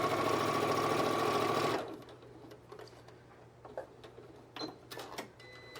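A sewing machine stitches a quilted, self-binding table cloth in a fast, close, steady whir that stops after about two seconds, followed by quiet room tone with small handling clicks.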